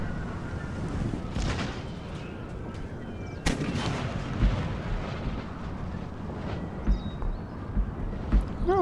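Dense, continuous battlefield din from Empire: Total War, with rolling musket volleys and booming cannon fire layered over a constant roar, punctuated by several louder thumps.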